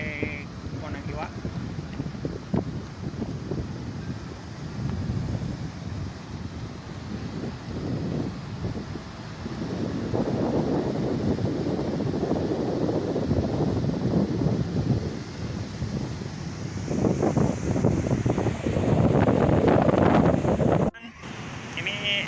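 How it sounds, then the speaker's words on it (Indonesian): Wind buffets the microphone over rolling surf at Kondang Iwak beach, a steady roar of waves with gusts that swell louder toward the end, and voices talk faintly in the background. "Di pantai Konangkiwa."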